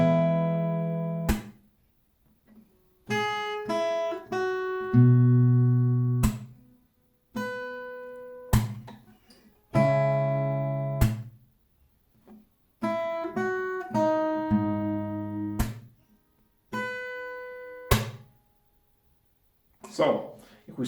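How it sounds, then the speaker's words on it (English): An acoustic guitar plays a song slowly, with separate strummed chords, sharp percussive hits and short silent gaps between phrases. It is close and clear. "if I play this slowly for you, you're gonna see how it's played and how it sounds"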